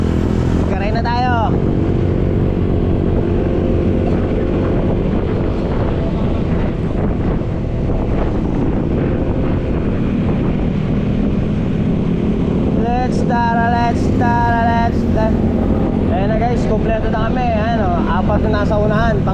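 A group of five motorcycles rides along a road, their engines rumbling loudly through heavy wind buffeting, with voices calling out near the end.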